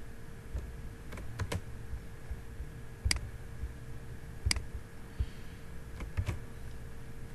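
Keys clack on a computer keyboard as a Windows 10 Pro activation code is typed, in short irregular clusters of close, crisp taps over quiet background hum.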